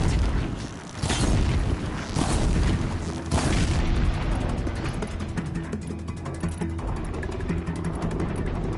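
Fire explosion in Horizon Zero Dawn's Frozen Wilds: a heavy booming blast near the start with a second strong burst around three seconds, then a rumbling, crackling roar that lingers loudly, no voices.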